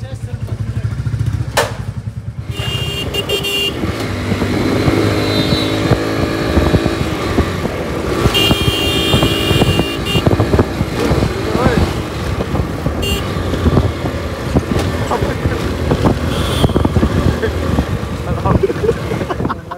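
A motorcycle ridden through Indian city streets: a continuous, loud engine drone with wind rush and traffic around it, carrying on for the whole stretch.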